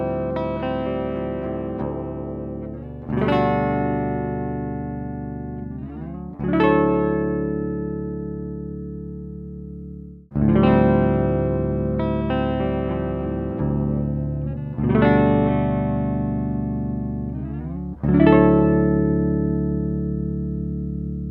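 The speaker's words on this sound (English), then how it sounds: "let's just try unaffected guitar straight into the pedal with no cab sim and then with" Clean electric guitar plugged straight into a budget pedal, first without and then with cab simulation, playing ringing chords struck about every three seconds and left to decay.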